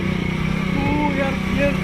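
A motorcycle engine drones steadily and close while riding through Amer Fort in Jaipur, a continuous mid-pitched hum with people talking over it.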